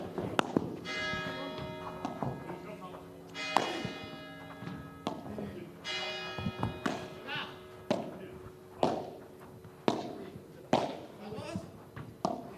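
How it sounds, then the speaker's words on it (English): Church bells toll the hour of 11 during a live billiards tournament broadcast, sounding as a series of resonant strokes about every two seconds, mixed with ball knocks and a commentator's voice. "Church bells tolling as they tell us that it is 11 o'clock local time as the church bells toll."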